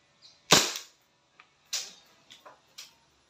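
A WE M-92 airsoft gas pistol fires one sharp, loud, close crack, followed by a few fainter clicks and snaps during testing.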